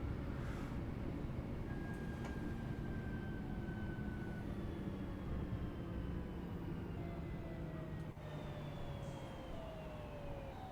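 Train running in the Train Sim World 3 video game on the Birmingham Cross City line, a steady quiet rumble of rolling stock with faint sliding tonal whines drifting across the sound, no talking.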